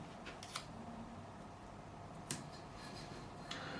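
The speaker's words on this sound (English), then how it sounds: "Where are my little scissors? These are my good scissors." Small scissors are handled and snipped while cutting a sticker at a guitar workbench, a few brief, quiet metallic clicks spaced apart over faint room hiss.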